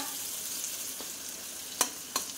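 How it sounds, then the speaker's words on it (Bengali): Lentil fritters (bora) frying in a pan of hot oil give a steady, close hiss of sizzling, broken by a couple of sharp crackles and pops near the end. "যে কটা বড়া আমি দেব সে কটা ভেজে নিলাম।"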